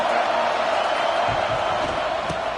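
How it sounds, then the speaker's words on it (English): A football stadium crowd roars in a steady, dense wash of cheering that holds loud throughout, with a few sharper whoops and thumps breaking through near the end. "This crowd ready to make its presence known."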